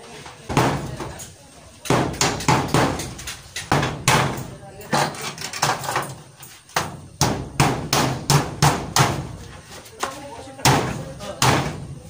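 Hard, sharp strikes of a stone hammering a metal nail repeat in quick bursts with brief pauses, close and loud.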